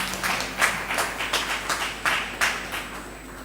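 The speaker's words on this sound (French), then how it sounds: "Sous vos applaudissements," Audience applause at the Prix Humanité Dakar 2020 award ceremony, a crowd clapping steadily with irregular sharper claps standing out, fairly close and gradually thinning toward the end.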